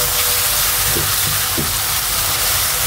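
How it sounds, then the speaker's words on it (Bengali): Spices, yogurt and cashew and almond paste fry loudly in a pan for a prawn malai curry, a dense steady sizzle with a few soft stirring scrapes and no voices. "সবগুলো উপকরণ আমি এখন ভালোভাবে ভেজে নিব"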